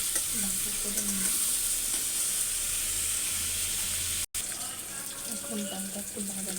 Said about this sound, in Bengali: এখন পেঁপে দিয়ে নিয়েছি, ভালো করে ভাজি করে নিয়ে